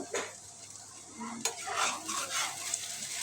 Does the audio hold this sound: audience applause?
no